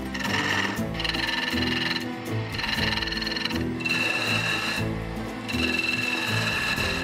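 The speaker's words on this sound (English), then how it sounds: "He's chucked up onto the lathe." A wood lathe turns a wooden Elder Wand replica while it is shaped. The steady whirring, close and loud, comes in several bursts that swell and ease off as each cut is made and lifted.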